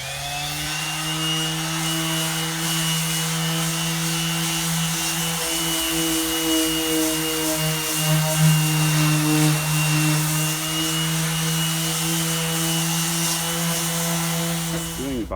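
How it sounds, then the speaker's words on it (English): A power sander drones steadily and loudly on truck body paint for the whole stretch, its motor humming with a constant grinding rasp and no pauses. "You just gotta start sanding."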